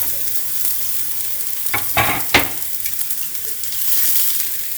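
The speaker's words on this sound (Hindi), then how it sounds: "अब इसमें हम ये लंबा वाला प्याज डाल रहे हैं।" Sliced onion and capsicum stir-frying in hot oil for hotel-style chilli chicken, a loud continuous sizzle with a few sharp bursts of tossing and stirring in the middle.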